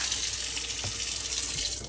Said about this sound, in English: take a little bit of water.